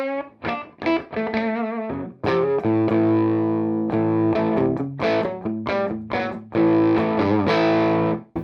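An electric guitar with the pickup selector in the middle position, wired out of phase, gives a thin vintage tone. Loud distorted chords and single notes are played with brief gaps between phrases, and no one speaks.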